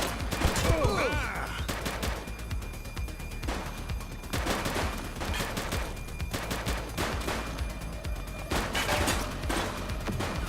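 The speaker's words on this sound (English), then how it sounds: "He's shooting!" Rapid gunfire rings out during a police shootout in the video game The Precinct, with dense bursts of automatic shots and single cracks repeating in clusters, loud and close, with voices briefly heard amid the shooting.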